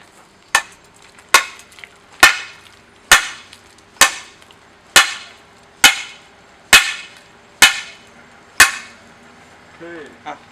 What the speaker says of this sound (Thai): เราจะใช้ค้อนปอนทุบนะครับ